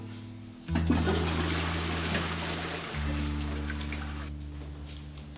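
A toilet flushes loudly, a rushing gush of water that swells, holds steady with a low hum underneath, then drains away.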